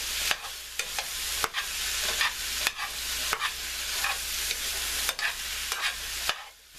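Vegetables tossed with oil, salt and pepper in a pan give a continuous close sizzle broken by repeated scraping stirs and light clacks, with no talking.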